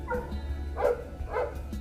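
A couple of dogs bark at a distance, two or three muffled woofs over a low background rumble.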